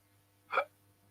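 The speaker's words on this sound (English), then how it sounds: "Got the hiccups." A single sharp hiccup, brief and fairly close, interrupts an otherwise quiet stretch of a current affairs broadcast, with a faint steady hum underneath.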